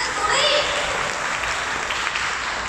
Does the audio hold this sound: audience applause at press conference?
yes